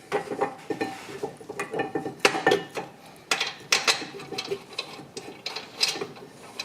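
A torque wrench tightens the brake caliper bracket bolts on a 2007-2016 Traverse, Enclave or Outlook, giving a series of close metallic ratcheting clicks and clanks in uneven bursts.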